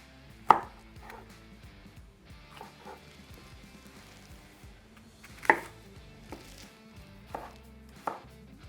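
Vegetables chopped on a cutting board for making sushi: sharp knife strikes, some loud and some softer, at irregular intervals over a quiet kitchen background.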